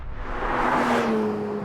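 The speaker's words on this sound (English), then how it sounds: "The new 911 GT3 with Touring Package." A Porsche 911 GT3 with Touring Package driving, its engine note swelling into a brief rush as it passes close by with a steady tonal hum and a broad whoosh of road noise.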